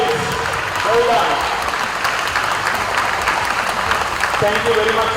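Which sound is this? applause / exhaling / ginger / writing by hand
applause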